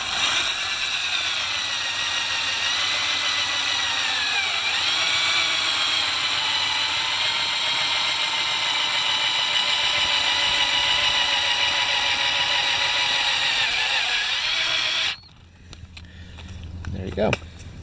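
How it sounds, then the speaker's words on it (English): A power drill drives a self-tapping screw with a built-in drill tip through both walls of a broken Sunfish sailboat boom, a steady whirring grind running about fifteen seconds before cutting off, with faint knocks after. "I'm going to take a self-tapping screw. It has like a little drill bit on the end, and we'll just drill right through both surfaces."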